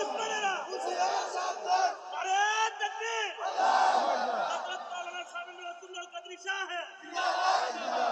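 A large congregation at an Islamic sermon for Shab-e-Barat shouts a takbir in unison, loud rising and falling collective cries repeated in several waves, close and filling the space.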